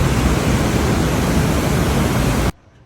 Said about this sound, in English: The noise of the water was so loud that Kim and I literally had to scream at each other